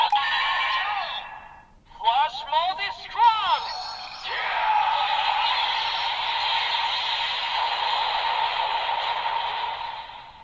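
DX Ultraman Decker Dual Sword toy playing its combo sound effect: a burst of electronic chimes and whooshing synth tones followed by a long sustained bright hiss, loud and close.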